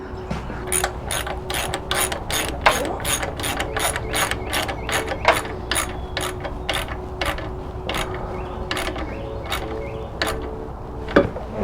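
Steady, fast ratchet clicking from tightening the 10mm heel guard bolts on a Yamaha YFZ450R ATV, with repeated bursts of clicks and a faint background hum, no speech.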